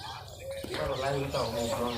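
Pigeons cooing as they feed on grain scattered at a village home, low soft coos mixed with a few chirps, heard under a person talking.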